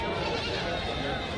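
A goat bleats at a busy livestock market on a riverfront, one short wavering call amid close crowd chatter and people talking nearby.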